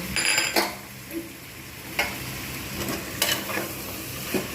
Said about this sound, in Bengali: এইবার আমি এর মধ্যে দিয়ে দেবো আলুগুলো এর সঙ্গেই ভেজে নেব